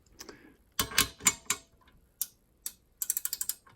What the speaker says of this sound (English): you're going to need a 13 millimeter, which is this bad boy that I got at Harbor Freight. It's a ratcheting one.